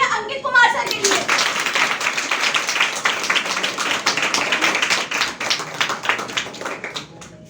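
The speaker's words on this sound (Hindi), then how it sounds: "एक बार जोरदार तालियां अंकित कुमार सर के लिए" An audience at an SIT Durgapur event breaks into dense, sustained applause to welcome speaker Ankit Kumar, with loud steady clapping for about seven seconds that tapers slightly at the end.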